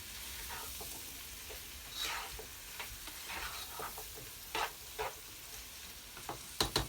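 Curried king prawns with white sugar are stirred in a frying pan, giving a faint sizzle under repeated soft scrapes and taps of a utensil, quiet and close.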